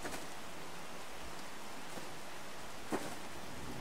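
Steady rain falls through a forest around a campfire, a constant soft hiss with one brief sharper patter near the end and no talking.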